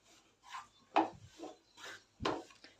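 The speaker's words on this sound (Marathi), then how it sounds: "सार एकसारखं हलवत राहायचं आहे म्हणजे बेसन करपणार नाही" A spoon scraping and stirring besan (gram flour) as it dry-roasts in a pan, with repeated rasping strokes about once every half second, close and fairly quiet, no voices.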